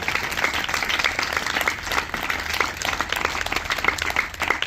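A church congregation at a Good Friday service claps steadily for several seconds, a dense, continuous wash of many hands filling the room.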